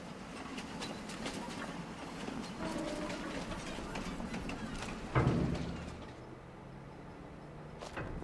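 A train in the Farming Simulator 25 video game rumbles steadily with clattering rail noise throughout, a louder clunk near the middle, then settles into a lower hum.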